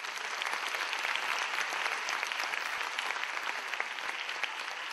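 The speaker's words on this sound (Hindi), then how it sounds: "ताली।" Dense, sustained audience applause at an award ceremony, steady and fairly loud throughout with no voices standing out.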